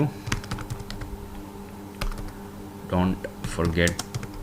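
Text being typed on a computer keyboard into an Excel spreadsheet, heard as a steady run of close, clicky keystrokes, with someone talking over the last part.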